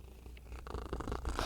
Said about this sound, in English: I don't know if you guys can hear my cat purring